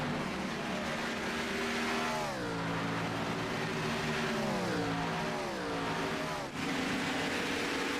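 Race cars on a track at a championship series finale scream past in a loud, continuous engine blare, their pitch sweeping down repeatedly as they shift and brake, several cars overlapping close by.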